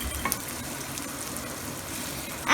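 Chilies and onions for Karnataka-style uppittu (upma) frying in hot oil in a pan, a steady close sizzle and crackle throughout, ending with a louder spurt of spattering.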